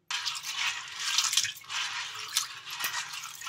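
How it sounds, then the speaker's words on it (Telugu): About a cup of chickpeas is washed by hand in a bowl of water, with close, soft sloshing and dripping that continues steadily and no one speaking. "ఈ శనగల్ని ఒక 2 సార్లు అయితే వాష్ చేసుకోవాలి."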